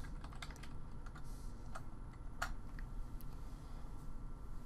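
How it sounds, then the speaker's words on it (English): Fingers typing a web address on a computer keyboard, a quiet irregular run of light key clicks over a low steady background hum, with no talk. "we will want to pull up the National Weather Service Spokane's homepage by typing in"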